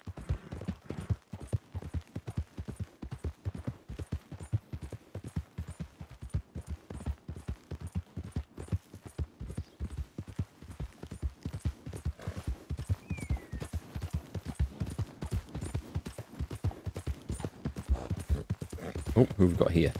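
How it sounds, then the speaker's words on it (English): Horse hooves clip-clop in a steady, rapid galloping rhythm throughout in Red Dead Redemption 2, loud and close, with a brief whinny and a louder burst near the end. "I've got to stop going at full tilt with my horse because it will tire it out."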